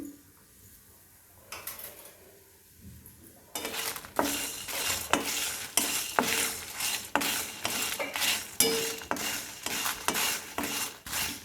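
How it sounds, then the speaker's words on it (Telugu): Coriander seeds and dried red chillies dry roasting in a pan for masala chicken pakodi, a soft start then repeated loud scraping and clattering strokes of a spoon against the metal, no talk. "ఒక టీ స్పూన్ అన్ని ధనియాలు కొంచెము ఎండుమిరపకాయలు ఇవన్నీ కలిపి డ్రై రోస్ట్ చేసుకోవాలి"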